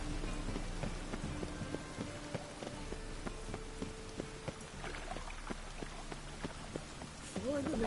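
Soft, steady rainfall patters in The Witcher 3 video game, a faint, even hiss of drops that runs throughout, with occasional hoof-like clops and speech mixed in.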